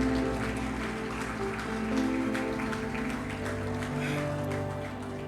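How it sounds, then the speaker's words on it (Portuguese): A church congregation claps their hands together in a steady, dense wash of applause over sustained music, with the clapping continuing evenly throughout. "Dê palmas para Ele."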